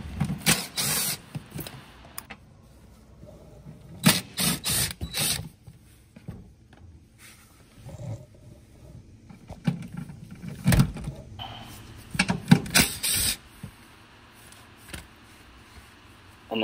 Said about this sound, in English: here in the middle, we have a series of 10mm bolts that need to come out